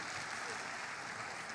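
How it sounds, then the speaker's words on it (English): Sustained applause fills a stakeholder forum, a dense even patter of many hands clapping at moderate distance without pause. "We can keep that applause going."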